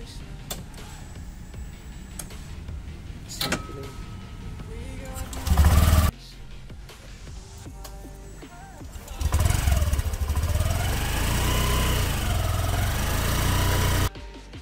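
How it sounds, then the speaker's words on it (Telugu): A 2020 BS-6 Honda Activa 125 scooter with an ACG silent self-starter starts with no starter whine, running briefly at first, then idling steadily for several seconds among scattered clicks and handling noises. "సైలెంట్ స్టార్ట్ అంటే నార్మల్ బైక్స్లో సెల్ఫ్ స్టార్ట్ ఎంత సౌండ్ వస్తుందో, కానీ ఇందులో చిన్న సౌండ్ కూడా రాదు."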